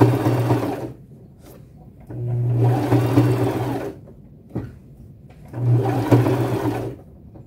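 A sewing machine stitches forward and back over a fringe bag strap in three loud whirring bursts separated by short pauses, close and with no talking.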